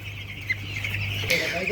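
Hens cluck and call in the background of a chick-rearing setup in cold weather while a steady low hum runs underneath, ending in a brief rustle.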